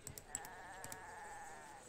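Goat bleating at a goat farm in the city-building game CivCity: Rome, short wavering bleats over faint game ambience.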